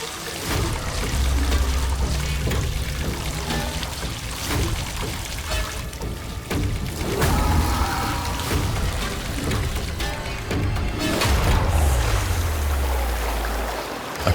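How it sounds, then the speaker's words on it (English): Water pours and gushes into a car interior after glass breaks, a loud, steady rushing surge with churning low rumble that keeps building, no talk over it. "Water starts pouring into the car quickly like an invisible monster."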